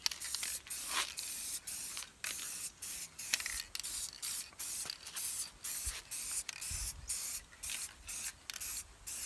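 HVLP spray gun spraying paint onto old car wheels, heard as a rapid series of short, close hissing bursts separated by brief gaps, with no talk.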